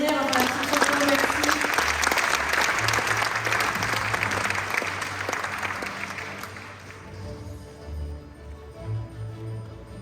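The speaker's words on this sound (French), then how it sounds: "On peut les applaudir." Audience applause fills a media awards ceremony, a dense sustained patter of many hands that thins and fades toward the end, with faint music and a voice underneath.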